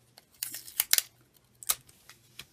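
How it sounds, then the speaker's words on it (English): Several quick, crisp rips of a small piece of tape torn off during a paper flower craft, close and quiet with a faint hum underneath and no talking. "Then I get a little piece of tape."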